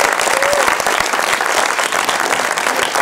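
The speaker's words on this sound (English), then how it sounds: "give yourselves a round of applause" Audience applause at an iOS demo day, with a dense, loud, sustained wash of many hands clapping close by for the full length, without a break.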